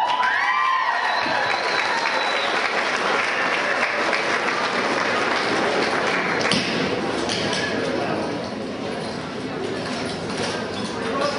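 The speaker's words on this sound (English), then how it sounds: "They clap really loud." Audience applauding after a clogging dance performance, a loud, sustained round of clapping that continues steadily and eases slightly near the end, with a voice speaking over it.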